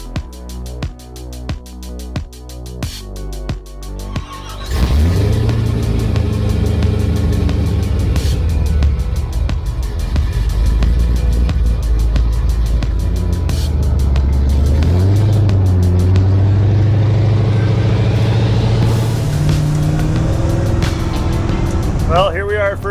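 1,000 hp 1955 Chevy ProTouring car with blacked-out two-tone paint driving, a loud deep engine rumble with revving throughout after a brief idle start, with someone talking over it.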